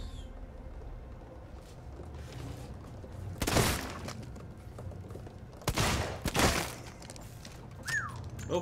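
Gunfire from a weapon in the video game Alien Isolation: a few sharp, loud bursts of shots spaced a couple of seconds apart over a quiet, humming ambient background.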